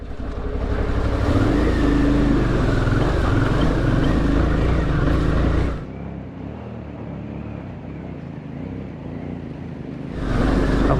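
A vehicle fords the Tallulah River with a loud rush of engine and water churning for several seconds, then the sound drops to a quieter rumble before another surge of splashing at the end.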